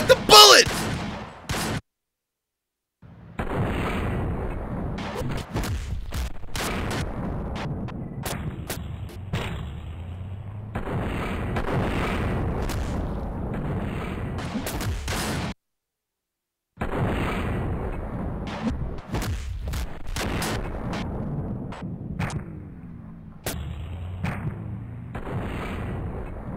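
Rapid gunfire and bullet impacts from the indie video game Delay crackle loudly in dense bursts, broken by two brief silent gaps, with a voice speaking at times.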